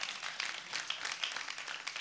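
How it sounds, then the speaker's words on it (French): Steady applause from a comedy show audience fills the room, a dense, even patter of many hands clapping that holds for the whole moment without a break. "Ça s'applaudit quand même."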